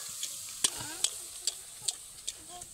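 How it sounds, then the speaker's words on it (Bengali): Beguni eggplant fritters fry in oil in a wok on a new stove, producing a soft bubbling sizzle punctuated by about six sharp clicks from a spatula tapping the pan. "খুন্তিটা দিয়ে একটু ওপরে তেলটা ছিটিয়ে দিলে ফুলবে ভালো"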